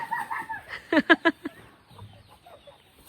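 A chicken gives a quick series of four or five sharp clucks close by, then the yard falls quieter with faint, scattered sounds.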